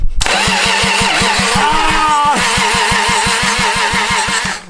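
An engine outside the car cranking on the starter, with a fast regular chugging rhythm and a loud, continuous whine that runs throughout, close up.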